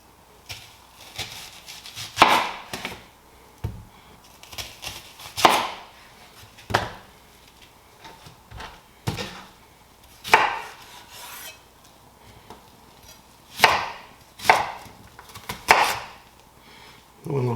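Onion chopped on a cutting board for steak chili, irregular firm knife thuds in clusters, close and distinct, with intermittent talking between the cuts.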